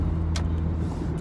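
Road noise from a car being driven, a steady low engine and tyre rumble filling the whole short stretch with no talk over it.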